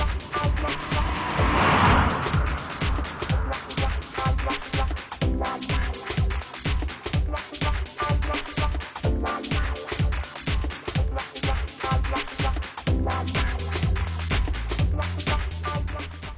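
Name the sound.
Renault Clio driving on a badly damaged road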